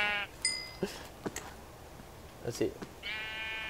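Sheep in the video game Minecraft bleat in two short, buzzy calls, one at the start and one near the end, with brief talking and clicks in between.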